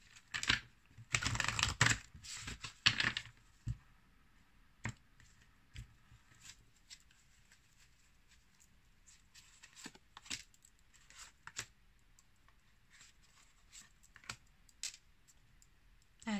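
Tarot cards are shuffled by hand, first a dense burst of riffling and slapping, then scattered soft clicks and taps as the deck is handled, close and quiet.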